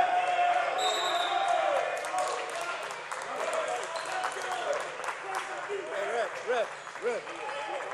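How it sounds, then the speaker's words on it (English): A basketball crowd at a high school game between Veritas Prep and Arizona Compass cheers and claps steadily, with sneaker squeaks on the court and an announcer talking over the noise. "the crowd is showing some life now"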